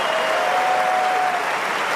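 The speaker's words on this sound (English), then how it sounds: "Applause for Federer." A Wimbledon crowd applauds Roger Federer after a point on grass at the 2019 championships, dense steady clapping filling the stadium for two seconds with a faint whistle gliding through it.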